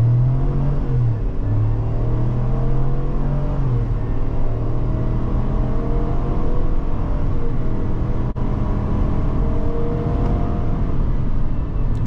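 A 2021 Chevrolet Suburban LT accelerates hard from a standstill to 60 mph, its engine roaring loudly and steadily up through the gears with a constant rumbling drone heard from inside the cabin. No one speaks.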